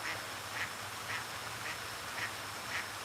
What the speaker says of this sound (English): And you're hearing a duck.